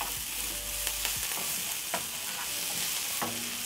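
Capsicum and chilies stir-frying in a hot pan, a steady loud sizzle with a few scraping stirs of the utensil breaking through.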